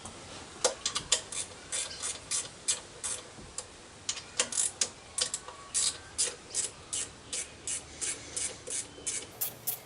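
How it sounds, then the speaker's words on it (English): A hand ratchet clicks steadily on engine bolts of an R34 Skyline, delivering rhythmic bursts of sharp close ticking with brief pauses between strokes, no talking. "Yeah, I think the camera can actually hear the ratchet."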